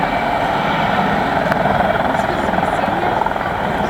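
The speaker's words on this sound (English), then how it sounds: "You can see the 7-bladed main rotor head spinning" CH-53 helicopter with a seven-bladed main rotor turning at an airshow, a steady loud rotor and turbine drone that fills the whole stretch with little variation.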